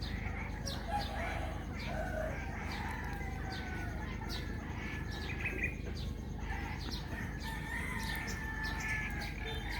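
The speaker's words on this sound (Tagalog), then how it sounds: "Yan yung maingay, yung mga maliliit na ibon. Marami kasi sila kaya maingay." A large flock of small birds calls noisily together outdoors, with a constant overlapping chatter of quick chirps and twitters over a low background rumble. No one speaks.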